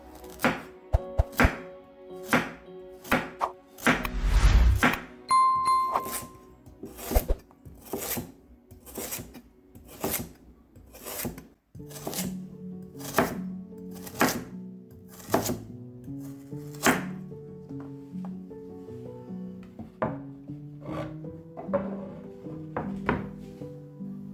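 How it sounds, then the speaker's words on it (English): A knife chops a carrot on a cutting board in a home kitchen, landing in a steady run of sharp, evenly spaced chops. Some lower kitchen clatter joins the chopping partway through. "Cut the carrot."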